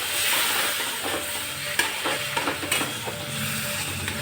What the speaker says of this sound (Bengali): এখন অল্প অল্প করে দুধটা দেবো